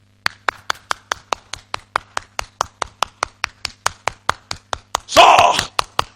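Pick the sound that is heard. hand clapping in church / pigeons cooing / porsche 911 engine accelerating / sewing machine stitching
hand clapping in church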